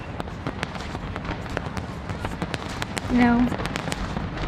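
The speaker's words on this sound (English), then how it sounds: "the colors of the fireworks was beautiful, colorful." New Year's fireworks over Sydney, Australia crackle and pop in a dense, continuous stream, with a louder burst near the end, heard behind a speaking voice.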